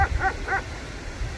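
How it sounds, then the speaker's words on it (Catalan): A shepherd dog guarding livestock in the Caucasus barks three quick times in a row, moderately close, then falls quiet with only a low rumble of background noise. "Un altre maleït gos, no em toquis els collons."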